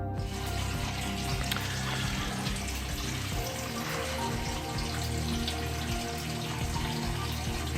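Water pours continuously through a shower head for a film pre-hypo wash after developing Ilford Delta 3200, a steady, dense rush with no breaks.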